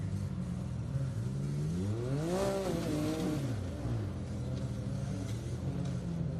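A Can-Am off-road racing vehicle at an Ultra 4 race in Pottsville, Pennsylvania revs its engine continuously, the pitch rising and falling through a sweeping rev in the middle, loud and steady with no talk.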